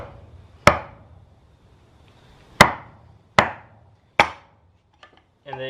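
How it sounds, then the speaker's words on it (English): A CV drive shaft with its splines lined up is tapped down onto a board, landing in four sharp, hard knocks at uneven intervals, each fading quickly. Faint clicks and rattles follow at the end. "So once you get your splines lined up, you just want to tap it down on a board."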